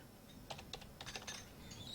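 Quiet keystrokes on a computer keyboard entering a Linux terminal command, a handful of irregular clicks in short clusters over a faint room hiss, no voices.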